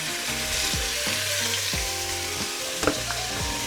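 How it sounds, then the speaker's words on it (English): Beef sears in a ripping hot pan with a steady, loud hiss and crackle of frying fat, continuous and close, with faint musical tones underneath and no talk. "That's when you know that pan is ripping hot and cooking."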